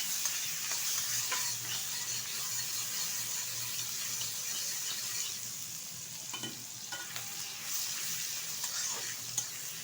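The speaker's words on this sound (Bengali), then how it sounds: "এখন দিয়ে দেবো বেছে রাখা চিংড়ি মাছ, হালকাভাবে ভেজে নেব।" Prawns fry lightly in oil with turmeric and black cumin seeds in a wok, giving a steady, continuous sizzle with faint stirring scrapes throughout.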